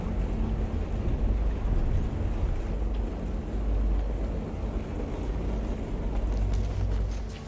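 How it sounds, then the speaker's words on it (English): Steady storm ambience in the video game No Man's Sky, a continuous wind-driven roar with heavy low rumble, sounding like rain and gusts battering outside a small shelter. It stays loud and constant throughout, with no voices. "And we are protected from the storm."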